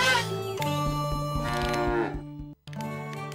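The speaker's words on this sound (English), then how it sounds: "Should I, help you get the cows back into their field?" Cartoon cows on a farm moo loudly and close, with long drawn-out lows that overlap across a farmyard scene, broken by a brief gap near the end and with no talk.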